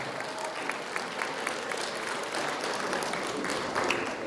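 A concert audience applauds a young oboist with steady, moderately loud clapping from a hall full of listeners, with no voices over it.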